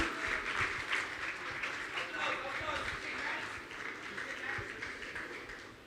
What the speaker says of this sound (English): A round of applause for Outlaws White, please.